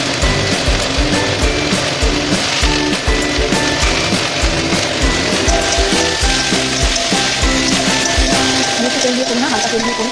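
Sliced beans and carrots frying in a little oil in a home kitchen, with a loud continuous sizzle and rhythmic scraping and stirring of a utensil against the pan throughout.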